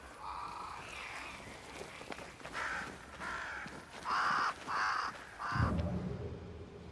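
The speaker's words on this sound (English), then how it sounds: "Crows. They flock to that great tree up there." Crows cawing in the video game Banishers: Ghosts of New Eden, a flock near a great tree, with a series of harsh caws that get louder and closer, alongside faint footsteps.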